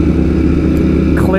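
Ducati motorcycle engine fitted with a full SC exhaust system, a steady loud low rumble running through the whole moment with no clear revving, while a voice talks over it.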